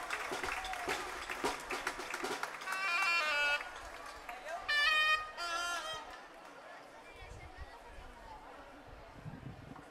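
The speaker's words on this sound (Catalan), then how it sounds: "Fem un fort aplaudiment al berro." Crowd applause and cheering for a 'berro' beast-figure dance at a Catalan festa major entremesos parade in 2023, loud and sustained with voices and chatter mixed in, then easing into murmuring.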